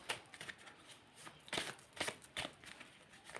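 Tarot cards are handled and drawn for a new moon reading, with soft, close papery shuffles and flicks in irregular quick bursts, faint and quiet.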